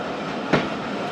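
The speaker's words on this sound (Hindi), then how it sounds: "बहावलपुर रेलवे स्टेशन से ट्रेन हो चुकी है रवाना" A passenger train pulling out of Bahawalpur railway station at night, heard as a steady rolling rumble of rail cars with one brief louder clack midway, close and continuous with no talking.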